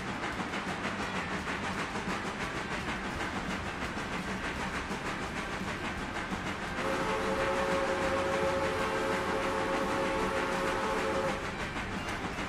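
A train rolls past in the railway simulation game Railroader, a steady mechanical rumble with rattling wheels, joined midway by a sustained steam whistle that holds for several seconds before fading; no talking.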